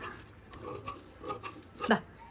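Mask fabric is cut into two pieces in a few soft, close rasping snips, the last one louder and crisper, with no talking.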